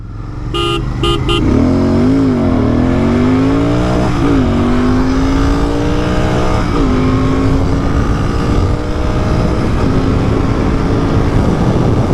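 KTM Duke 390 and GT 650 motorcycles accelerating in a drag race, engines roaring close and loud with rising revs and gear shifts, the pitch climbing and dropping several times over a constant engine drone.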